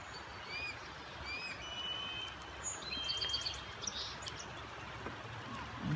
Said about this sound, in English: squawking over here,